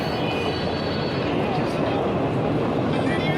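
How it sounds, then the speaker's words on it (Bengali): A train rumbles steadily past directly below, near Lataguri, with a continuous broad roar of wheels and carriages that stays loud and even throughout, while voices talk nearby. "আমাদের নিচ দিয়ে ট্রেন যাচ্ছে"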